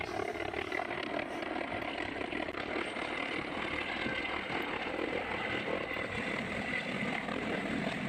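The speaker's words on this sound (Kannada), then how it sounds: "ಹೆಲಿಕಾಪ್ಟರ್ ಬಂತು" A helicopter arriving over a Karnataka village where a crowd waits, heard as a steady, dense rotor and engine roar that holds at a constant level throughout.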